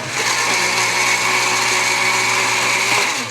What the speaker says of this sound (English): So it's a 10-speed blender, which is kind of cool.